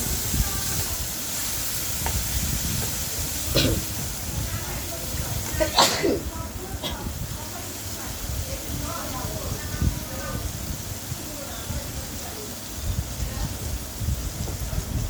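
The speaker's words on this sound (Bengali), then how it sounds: "এখন পেঁয়াজটা একটু ভালো করে ভেজে নিব।" Onions fry in a pan after fish, giving a steady soft sizzle and hiss throughout, with a few brief sharper crackles and pops.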